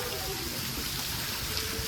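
Heavy rain pours down over farm fields in Banaskantha, Gujarat, a dense, steady hiss that fills the scene without break, with a faint low rumble beneath and no clear voices.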